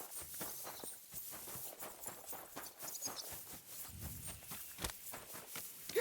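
Horse hooves clip-clop in the video game Kingdom Come, a steady, close walking rhythm of distinct hoof strikes on the ground, heard alone without talk.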